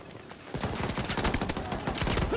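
Rapid automatic gunfire from a Battlefield 2042 firefight rattles in a dense, continuous burst of close shots after a brief quieter start.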